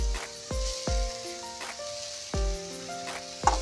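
Grated coconut sizzling in a hot kadai on a gas burner, a soft steady frying hiss broken by several sharp clanks of a spoon against the pan, close up with no talking.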